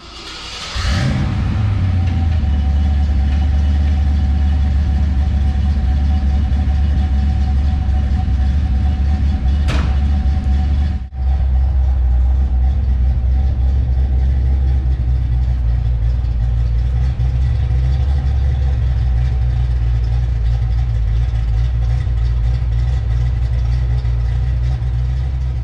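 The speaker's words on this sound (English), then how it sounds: "We have not done a cold start on the Retro Fox in a while" A Foxbody Mustang with a B cam, shorty headers and homemade Flowmaster-style exhaust cold starts with a quick crank, then settles into a loud, steady, deep idle that rumbles on close by for the rest of the stretch.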